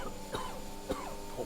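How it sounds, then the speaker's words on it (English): Several harsh coughs from a man with a cold, three sharp bursts spread across a short stretch, close and fairly loud with a throaty, spluttering edge. "I'm croaking a little bit and coughing and spluttering"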